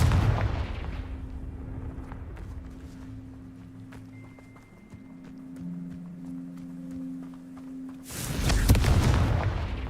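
Confringo blasting spell in Hogwarts Legacy, with a rumbling explosion at the start and a louder, sharper blast near the end, separated by quieter ambient hum and faint ticks.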